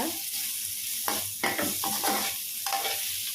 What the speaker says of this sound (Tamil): இதுவும் நல்லா வதக்கிட்டு நல்லா ஒரு பாதி அளவு வெந்து வரணும்